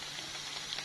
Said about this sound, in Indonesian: Yang ini lagi goreng nugget kentang.